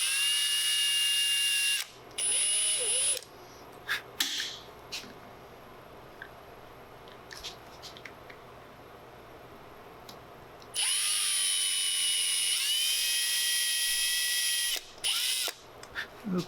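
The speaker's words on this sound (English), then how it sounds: "we'll drill it outside the stock." A power drill whines loudly in two long bursts while drilling holes in a rifle stock, with quieter clicks and handling noises between them and short spurts of drilling near the end.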